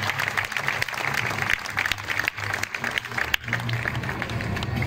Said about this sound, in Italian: Fate un applauso a questi ragazzi.